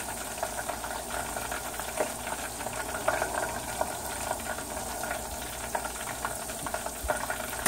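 Kimchi pork egg rolls frying in hot oil until golden brown, a steady dense crackling sizzle with small pops throughout, close and continuous with no talk.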